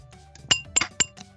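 Glasses clink together in a celebratory toast, about three bright, sharp chinks close together with softer rattles between them, heard up close with no voices.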